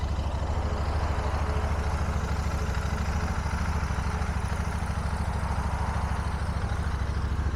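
A 2022 Royal Enfield Interceptor 650 parallel-twin engine idles on its side stand, a steady, even low-pitched throb held close and constant throughout, with no voices.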